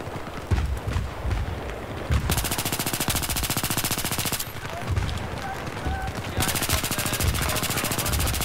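AS VAL suppressed rifle in Battlefield 3, fired in long rapid automatic bursts with short pauses between them, loud and close, layered over busy game battle noise.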